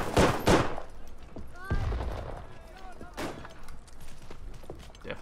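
Shotgun blasts in the World War I shooter Verdun, a few loud booming reports spaced a second or more apart amid background battle noise and players talking.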